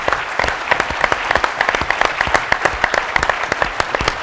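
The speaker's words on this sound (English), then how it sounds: "let's give a round of applause for our three shared value heroes" An audience at a business conference claps for three honorees, a steady round of distinct, crisp handclaps at moderate loudness, fairly sparse and even, without cheering.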